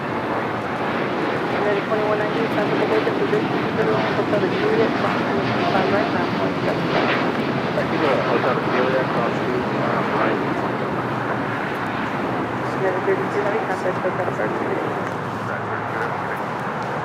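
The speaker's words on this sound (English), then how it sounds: "This is that United Dreamliner, 787-9 Dreamliner, heading to Tokyo Narita" United Boeing 787-9 Dreamliner departing LAX for Tokyo Narita, its engines producing a broad, steady rushing roar that swells slightly midway, heard from a distance with wind buffeting the microphone.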